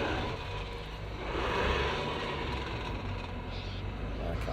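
A dual-cab ute's engine revs steadily and loudly under increasing throttle while driving off-road, a continuous broad roar that swells slightly midway and stays dense throughout.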